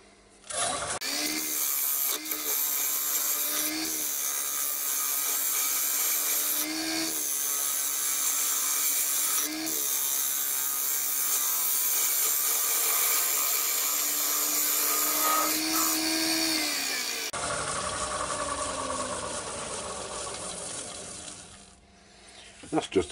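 A lathe gouge cuts a large spinning walnut bowl, producing a loud continuous scraping and tearing with repeated rhythmic catches as the tool sweeps across the wood, then easing off near the end.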